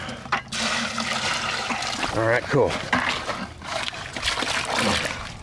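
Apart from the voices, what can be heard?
water pouring into a mix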